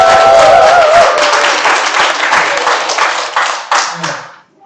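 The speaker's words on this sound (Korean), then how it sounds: "아름다운 파트너십을 위해서 다시 한번 박수" A seminar audience breaks into loud applause, a dense wash of many hands clapping close by that carries on for several seconds before tapering off. A voice speaks briefly over the start.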